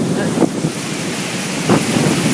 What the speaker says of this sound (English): it's like really windy here.